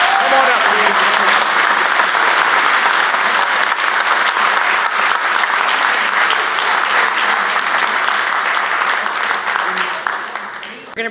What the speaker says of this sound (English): Let's give a big hand to the mayor and to the champions.